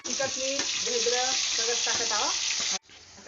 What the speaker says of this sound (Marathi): आता वरण फोडणी हो मस्त चवल्याला लागते वरण